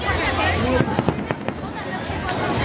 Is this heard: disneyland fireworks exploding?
yes